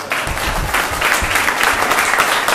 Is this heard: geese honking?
no